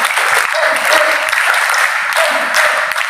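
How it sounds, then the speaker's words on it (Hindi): A large audience breaks into loud, sustained applause at a public youth gathering, a dense steady roar of clapping filling the full stretch, with faint voices and shouts mixed underneath. "एक बार उसके लिए जोरदार तालियां"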